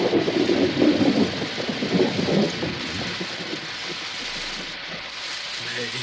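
Rain falls heavily outdoors with rolling thunder in the opening seconds, the rumble fading and leaving a steady hiss of rain on surfaces for the rest.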